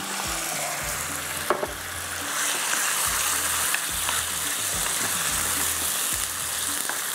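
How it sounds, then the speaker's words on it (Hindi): Chicken frying with cumin in a pan, a steady loud sizzle running throughout with occasional scrapes and clatters of stirring, no voices over it. "इसको मैं डालूँगी चिकन को थोड़ा फ्राई करते हैं"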